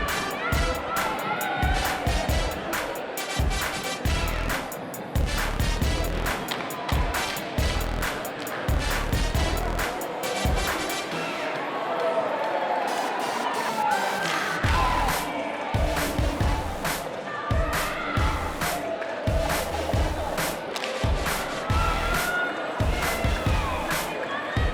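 The Marysville cheer team performs a routine of sharp rhythmic claps and stomps under loud group shouts and chants, with crowd noise around them, busy and close throughout.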